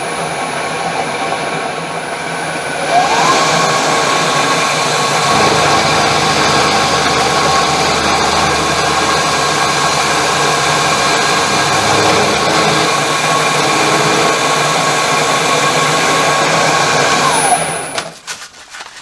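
A milling machine cuts a shallow slot about 100 thousandths deep in part of a multi-position mill table stop, a steady, loud whirring grind that runs unbroken for about fifteen seconds and then stops, with no talking.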